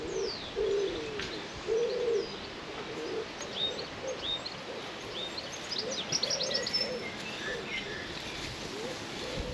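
Garden birds cooing like pigeons or doves, with higher chirps scattered through, steady and moderately close outdoors during vegetable planting.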